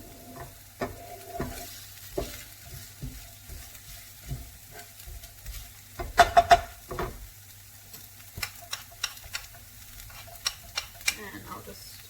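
Garlic fries in a pan with a soft, close sizzle, broken by scattered stirring clicks and scrapes and a few sharper spatula taps against the pan.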